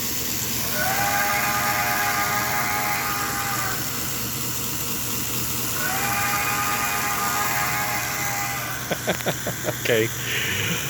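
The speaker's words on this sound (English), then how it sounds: "One last time, I like the whistle." A digital steam whistle from an NGS Level 1 model train sound kit sounds twice in long sustained blasts, then a burst of short toots, over a steady hiss with a voice speaking.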